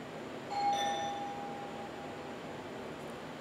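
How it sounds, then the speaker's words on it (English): A faint electronic doorbell chime rings once in the background of a quiet room, its tone lingering and fading over a couple of seconds. "That's my doorbell, sorry."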